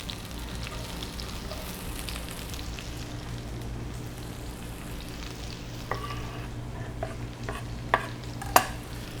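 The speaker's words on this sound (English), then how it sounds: "we go in with the onions" Onions fry in a pan with a soft, continuous sizzle while being stirred, with a few sharp clicks and taps of a utensil against the pan toward the end, close and fairly quiet.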